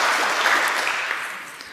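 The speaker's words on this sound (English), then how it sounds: "So please, one round of applause for Arthur." An audience claps for a speaker at a conference, a broad wash of applause that starts full and slowly fades over a couple of seconds.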